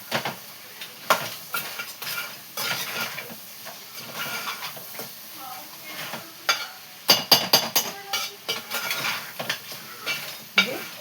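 A curry of tomatoes and chilli powder cooks in a pan, with a steady soft sizzle, stirring scrapes and occasional clinks of a spoon against the metal pan up close.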